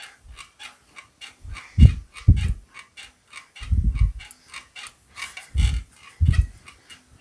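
An English wheel shapes the side of a sheet-metal trunk skin for a 1940 Ford Coupe–inspired build, making rhythmic low rumbling passes and light ticking clicks, close and moderately loud, repeating in short strokes.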